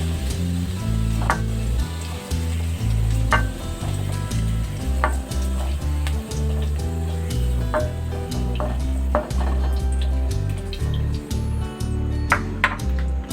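Pork liver sautéing in a pan for pork menudo, a continuous close sizzle broken by scattered metallic pings and stirring clinks of utensil against pan, with no voice over it.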